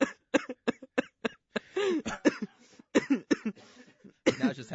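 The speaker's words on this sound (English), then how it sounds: "Now it's just half an hour of us coughing." Several people coughing in repeated bursts, some harsh and throaty, with brief gaps between fits and a few overlapping coughs, close and loud.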